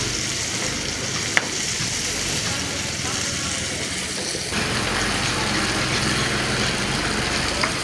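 Okra (bhindi) fries in a pan in a village kitchen, producing a continuous, loud, close sizzle that grows slightly denser partway through, with one sharp tap early on.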